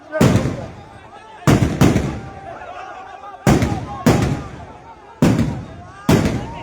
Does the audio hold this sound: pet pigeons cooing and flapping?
no